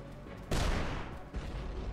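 In the video game UnMetal, a loud burst of rocket explosions hits suddenly, followed by continued rumbling booms and gunfire-like crackle, dense and close.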